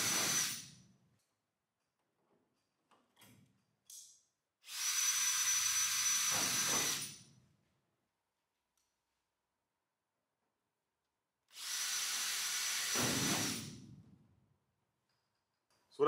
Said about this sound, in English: basically drilling out all the holes up to A4 size